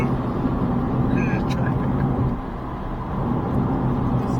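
Steady road traffic rumble on a motorcycle ride, a continuous low engine and road drone with a brief higher hiss partway through, heard up close throughout.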